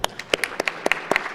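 Scattered handclaps from a small indoor audience at a symposium session, a few sharp distinct claps spaced irregularly rather than a dense roar, brief and fairly close.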